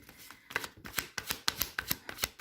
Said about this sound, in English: Sometimes I shuffle forever before something pops out, really.